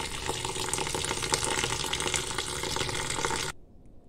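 Bitter wild monsoon leafy greens (patri) rinsed in cold water, a steady close rush of running, splashing water that stops abruptly near the end, with no voices.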